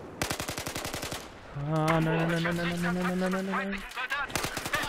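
Rapid automatic gunfire from an AK-5C assault rifle in Battlefield 4 multiplayer on the Paracel map, bursts of sharp shots at the start and end, with someone talking over the middle.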